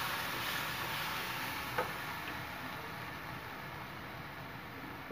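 Tomato masala sizzling steadily in a pan for a Kerala-style chicken roast, a constant close frying hiss with faint stirring scrapes and no talk.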